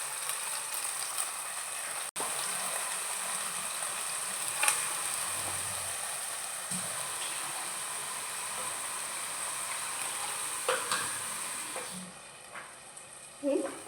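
Ground onion paste hitting hot oil in a pan for paneer masala curry, giving a steady close sizzle and hiss with occasional scrapes and knocks of a utensil, moderately loud, without talk.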